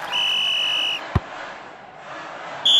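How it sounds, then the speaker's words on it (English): A referee's final whistle in the football game Head Ball 2 sounds as a steady, shrill tone for about a second. A brief thump follows, then another whistle blast starts just at the end. "And with the final whistle, the match has come to an end."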